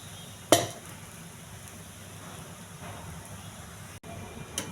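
Pesarattu, a green gram crepe topped with onions and coriander, frying on a pan with a soft steady sizzle, a single sharp utensil clink near the start and faint scraping, with no talk.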